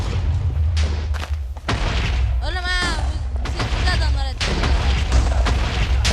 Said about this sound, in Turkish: TNT'yi yere koy direkt patlıyor zaten.